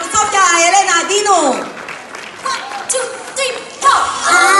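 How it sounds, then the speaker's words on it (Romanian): An audience at a children's singing competition applauds as a young singer is introduced, the clapping rising and falling under an announcer's voice and a loud cheer near the end. "aplauze pentru Sofia Elena Dinu!"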